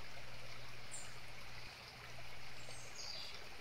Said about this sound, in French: Écoutez cette eau.